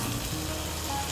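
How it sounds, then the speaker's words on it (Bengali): Fried potatoes tipped into a spice masala for Bengali duck egg curry, giving a steady, close sizzle and frying hiss that holds evenly for about a second with no talking. "এখন আমি এর মধ্যে দিয়ে দেবো ভেজে রাখা আলু।"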